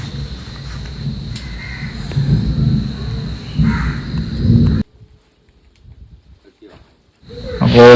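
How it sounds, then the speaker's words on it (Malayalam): Thunder rolls as a deep, continuous rumble during heavy rain for about five seconds, then drops to near silence before the roar swells again at the end. "ഇടിയ മിന്നലൊക്കെ ഉണ്ട്"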